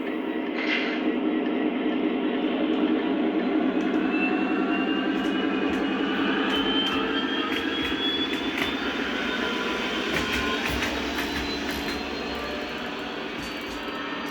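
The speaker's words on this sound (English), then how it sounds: "now we have a Lionel Legacy SD40. Let's try this one." A Lionel Legacy SD40 model diesel locomotive gives off a steady, loud engine drone with a whining hum that holds constant throughout, plus a few faint clicks near the end.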